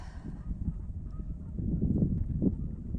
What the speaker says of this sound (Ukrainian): гуси клекочуть